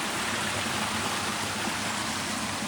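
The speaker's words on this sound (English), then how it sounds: "Now the key is don't fall in the river." A river in Guatemala rushes steadily, a dense, constant wash of flowing water filling the scene from start to finish with no voices over it.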